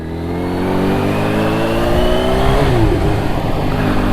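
A 2022 Kawasaki Ninja H2 supercharged motorcycle engine drones close and loud for about four seconds, its steady pitch climbing as the rider revs and accelerates, with no voices over it.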